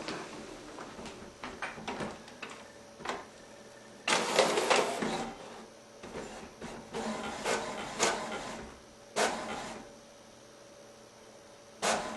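An HP OfficeJet Pro 8100 color inkjet printer runs a print job, with bursts of mechanical whirring from the print head, clicks and the feed motor starting and stopping in uneven cycles, heard up close.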